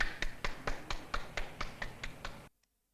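A series of sharp clapping impacts from a movie scene, about eleven evenly spaced claps in quick rhythm, loud and close, stopping abruptly into silence.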